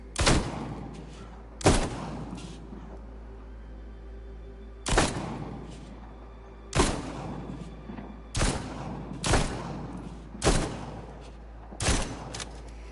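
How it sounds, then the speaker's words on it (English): Heavy pistol shots in The Walking Dead Onslaught video game, eight loud sharp reports fired singly at irregular intervals of about one to two seconds, each with a brief echoing tail over a low steady hum. "I want to test this gun out. This this is a heavy pistol."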